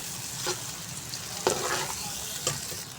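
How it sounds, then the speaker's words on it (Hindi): Onions frying in ghee in a pan give a steady close sizzle, with a few stirring scrapes at intervals and no voices. "अब प्याज को हमने हल्का सा कलर देना है। 2-3 मिनट तक इसको मैं फ्राई करूँगी।"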